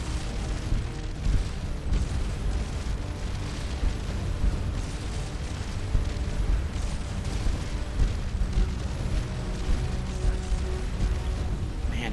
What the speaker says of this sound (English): All those missiles caught that guy.